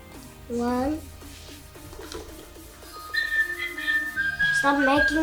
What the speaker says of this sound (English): Stop making whistling noise.